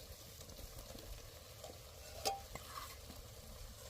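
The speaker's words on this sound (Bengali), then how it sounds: "এবার দিয়ে দেবো ভেজে রাখা আলুটা" Fried potatoes going into masala frying in oil for a pointed gourd and prawn curry, a quiet steady sizzle with a sharp clink and stirring scrapes partway through.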